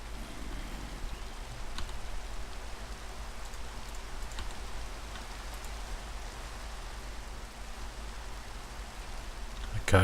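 Rain falls in the video game Minecraft as a steady soft hiss of drops that stays constant throughout, at a low, even level.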